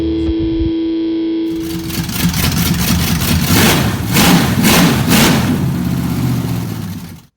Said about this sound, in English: Today we're gonna fire up an engine